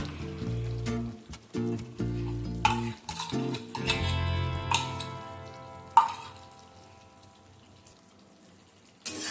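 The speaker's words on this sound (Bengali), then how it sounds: "একবার ভালোভাবে মিশিয়ে নেব।" Chicken being stirred in a pan with fried onion and yogurt paste, a series of scraping, clattering spoon strokes and wet squelches, with one sharp clank and quieter sizzling after.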